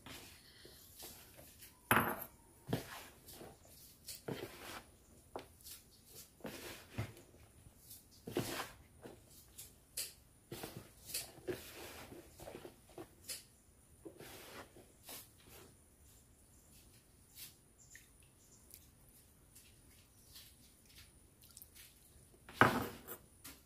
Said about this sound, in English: So you are mixing everything hard